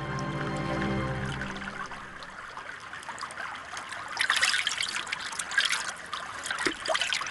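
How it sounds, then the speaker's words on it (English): Water trickles and splashes in a small stream out in the sunshine, a steady close babbling that grows brighter and busier in the second half, with no voices. "There was water, a stream glinting in the sunshine."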